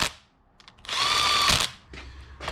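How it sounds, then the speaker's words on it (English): A power tool running down engine bolts on a Honda CB360 motor in a crisscross pattern, heard as a short whirring burst with ratcheting clicks before and after, close and fairly quiet. "So you do a crisscross pattern when tightening these. We're just going to run it down snug."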